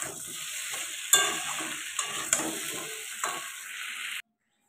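Pumpkin curry cooks in a pan, a steady close sizzle broken by several sharp scrapes and knocks of a spoon stirring through it, the frying cutting off abruptly near the end.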